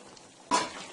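Fish frying in hot oil in a pan, a sudden bright hiss and crackle of sizzling that flares up halfway through and keeps spitting steadily near the microphone.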